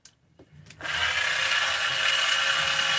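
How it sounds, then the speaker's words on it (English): Grinder working on the flywheel of a 262xp chainsaw engine during porting: a few faint taps, then a loud high-pitched grinding whine that starts abruptly and holds steady, close by. "So what you can actually do is grind,"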